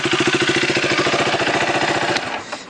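A 2015 KTM RC390 motorcycle idling at the exhaust outlet, a rapid, even single-cylinder thumping pulse close and loud, easing off briefly near the end.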